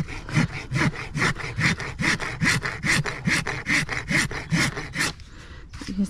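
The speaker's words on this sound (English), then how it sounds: "Like I'm barely squeezing my nippers and it's just cutting through that like there's nothing there." Hoof nippers cut through a soft horse hoof in a quick run of about a dozen rhythmic crunching, rasping strokes, close and fairly loud, with no talk over them.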